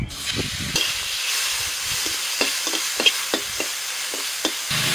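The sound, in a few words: frying shrimp in a pan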